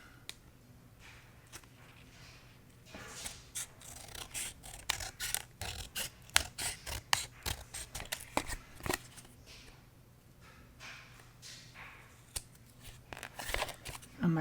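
Scissors snip through craft paper while trimming a piece for a handmade vintage bingo card shelf sitter, giving a quick run of close, crisp cuts and rustles of irregular rhythm.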